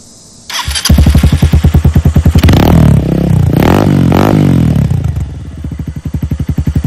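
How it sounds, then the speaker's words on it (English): A Lifan KP Mini minibike engine with an open slip-on exhaust starts up with a loud, throaty popping exhaust, revs hard a few times, then settles back to a choppy idle close by. "it is a lot more throaty and loud and poppy"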